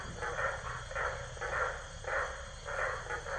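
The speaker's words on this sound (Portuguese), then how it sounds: "é umas rãs que tem aqui" Frogs calling from a riverbank at night on a rainy rural road trip in northern Brazil, a steady pulsing chorus of repeated croaks at an even rhythm, moderately close and continuous, with an insect-like buzz underneath.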